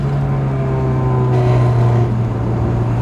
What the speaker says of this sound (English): Seems to be making a little rattling noise, but who the hell knows what that is? Could be heat shield or something